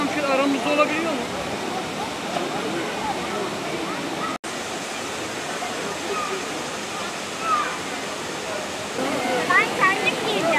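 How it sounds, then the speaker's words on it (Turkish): Waterfall spilling onto a beach at Ilıca, a steady broadband rush of falling water that fills the whole clip, with voices talking faintly underneath. "Böyle bak, şelale tam şu aramızda olabiliyor mu?"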